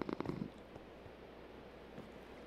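A cat lying on someone in bed purrs softly and steadily, with a brief rustle of movement at the start and no talking.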